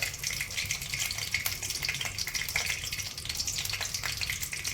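Peanuts frying in hot oil for a Gujarati tempering, with asafoetida tipped into the pan, give off a steady, close sizzle and crackle that runs the whole time without a break.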